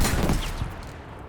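A rocket launched in the Battlefield V shooter game: a loud, close, broadband blast that fades into a rumbling decay over about a second.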